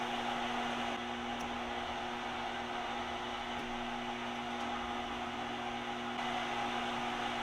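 A lathe cuts a thread on a stainless steel pin, giving a steady, even machining hum with a constant tonal drone throughout, moderately quiet and without speech.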